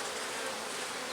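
Honeybees buzz around a hive after a swarm has left, a brief, soft, continuous hum of many wings close by with no voices.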